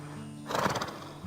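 A thoroughbred horse gives a short, loud whinny that bursts out after a quiet moment and fades within about half a second, with no talking over it.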